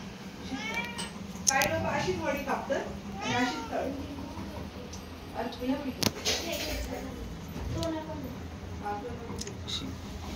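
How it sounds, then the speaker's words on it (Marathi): A cat meows several times in short, rising calls, mixed with people talking nearby and some household background noise. "आमच्या घरात एक मांजर आहे. ही बघा कशी करते."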